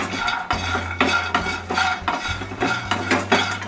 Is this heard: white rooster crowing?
no